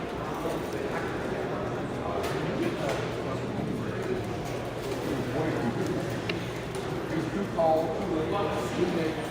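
Chinese owl pigeons cooing at a national young bird show in a busy hall, soft coos buried in a steady din of crowd chatter and background noise.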